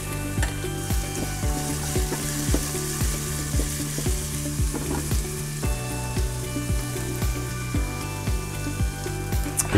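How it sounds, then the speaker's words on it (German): Onions and ginger sauté in a Cook4me pot with a loud, close, crackling sizzle overlaid by a regular rhythmic thumping from the appliance, steady for the whole stretch. "Jetzt braten wir erstmal hier unsere Zwiebeln und den Ingwer ein bisschen an."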